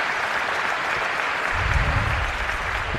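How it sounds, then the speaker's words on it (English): A crowd applauds at a 2015 legends table tennis match between Jiang Jialiang and Jan-Ove Waldner. The clapping is sustained and even throughout, and a low voice comes in beneath it partway through. "The crowd is trying to pump him up."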